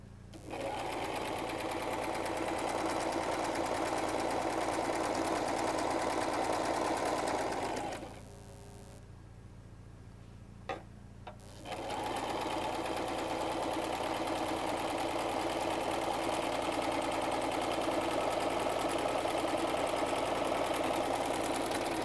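A sewing machine stitches together the side panels of a salwar, running steadily and loudly close by, stopping for a few seconds midway, then resuming its continuous whirring run.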